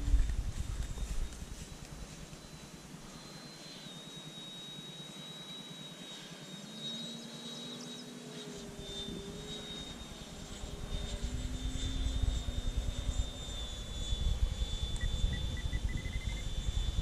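A Freewing F-22 Raptor radio-controlled model jet flying on a breezy day, its high thin turbine whine holding steady with slight pitch shifts over heavy wind rumble, moderately distant, with no talking.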